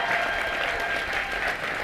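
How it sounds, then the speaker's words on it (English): Steady, dense applause from a large audience fills a commencement ceremony, continuous and loud throughout with no pauses. "Let's have a round of applause for them."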